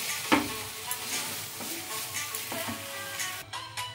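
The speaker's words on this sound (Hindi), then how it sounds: "मीडियम फ्लेम पे भून लेते हैं।" Carrot halwa (gajar ka halwa) sautéed in a pan over a medium flame, with steady close sizzling and frying and repeated scraping stir strokes of a spoon through the thick mixture.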